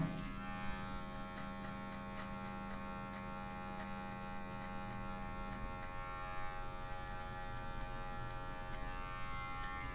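Electric hair clippers buzz steadily up close, a continuous motorized hum with slight changes in pitch as they move.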